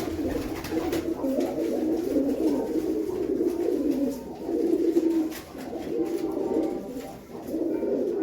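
Several pigeons coo continuously nearby, a low throaty warbling that overlaps and swells without pause.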